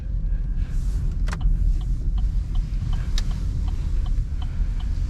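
Car engine idling with a low steady rumble at close range while it manoeuvres into a parking stall, with a few faint ticking clicks and small knocks over the top and no talking.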